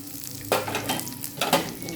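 Onion, coriander seeds, curry leaves, fenugreek and chillies sizzle in coconut oil for a crab curry, with a steady fry hiss broken by two louder stirring scrapes, close by and no voices.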